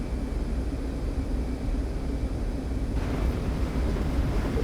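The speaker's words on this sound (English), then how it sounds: "full throttle, and we are departing at this time" Twin engines of an F-15C at full throttle on the takeoff roll in the DCS flight simulator, a dense, steady low roar with broadband rush that thickens slightly partway through, continuous and loud with no voices.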